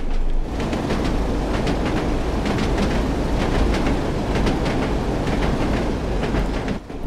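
Train in Train Sim World 2 on the Tees Valley Line, accelerating with a steady loud rumble and rhythmic clickety-clack of wheels over rail joints, continuous and close throughout, with no talk.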